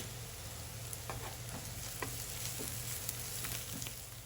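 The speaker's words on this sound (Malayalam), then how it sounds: "ഞാൻ ഇഞ്ചി വെളുത്തുള്ളി ചതച്ച് വെച്ചത് 1 ടേബിൾ സ്പൂൺ ചേർത്ത് കൊടുക്കുന്നുണ്ട്." Crushed ginger and garlic fry in a pan for prawn biryani, a quiet, continuous sizzle with light scattered clicks of stirring throughout, no talk.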